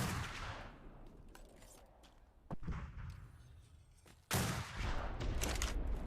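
Gunfire in a war video game with mortar fire: a few sharp, booming shots stand out over a low rumble, and the last blast is followed by loud sustained noise.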